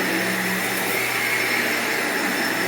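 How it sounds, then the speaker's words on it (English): Vacuum cleaner running over carpet during encapsulation carpet cleaning, a loud steady motor whine and suction roar held constant and close throughout, with no talking. "So we're just going to give this a nice little vacuuming,"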